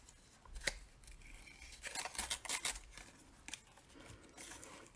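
Scissors cutting cardstock for a Stampin' Up Paper Pumpkin card project, several close, quiet snips and paper rustles, with a clustered run of cuts in the middle.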